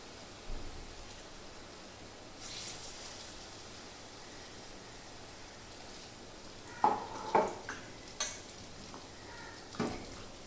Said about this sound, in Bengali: কিছুটা ভেজেছি, ভেজে তুলে নিয়েছি